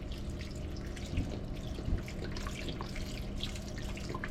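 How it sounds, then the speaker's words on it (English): Vegetable broth pours from a carton into a pot in a steady, close liquid splashing and trickling stream, with no talk over it. "I'm going to add a fair amount of vegetable broth now."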